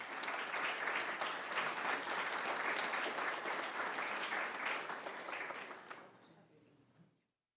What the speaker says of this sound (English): I think our police department deserves a round of applause.